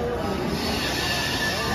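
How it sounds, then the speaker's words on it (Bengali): A train pulls into a station in West Bengal, heard as a continuous close rumble with squealing wheels and clattering rail noise, fairly quiet and steady throughout. "আমাদের এখন ট্রেন দিয়ে দিয়েছে"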